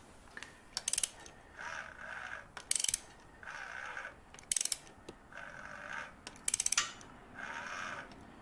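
Ratcheting wrench turning over the engine of a Royal Enfield Continental GT 650 with the valve cover off, one full cycle: quiet, evenly spaced bursts of clicking ratchet strokes separated by short pauses, close by, with no voices.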